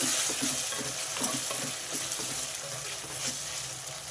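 Chicken curry with tomatoes is stirred in a hot pan, the steady frying sizzle broken by rhythmic scraping and sloshing strokes.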